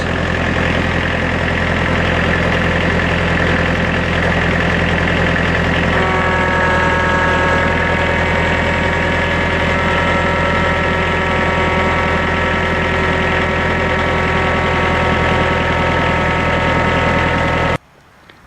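A truck engine idling steadily and loud up close with a constant rumbling drone, its pitch tones shifting partway through as load comes on, then cutting off abruptly at the end.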